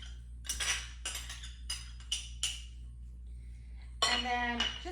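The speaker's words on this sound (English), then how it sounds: "I think I'm gonna get a spoon so I can stir it a little bit better here." A spoon clinks and scrapes against a pan while stirring tomatoes and garlic for pasta, sounding as a series of short metallic knocks and rattles, spaced irregularly over a low steady hum.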